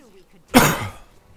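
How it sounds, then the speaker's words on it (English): A single short, harsh cough lands right on the microphone, loud and close, with quiet around it. "I coughed into the mic."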